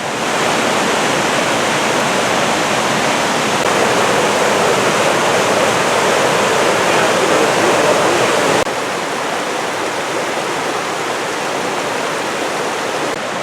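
Two mountain creeks rushing together below an overlook near Olallie and Talapus lakes, a loud, steady roar of high water with no pauses, alone with no voices.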